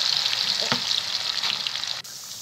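Whole spices dropping into reheated oil in a pan for egg curry, giving a loud, dense sizzle with a brief crackling burst early on that eases slightly before a sudden drop at the end.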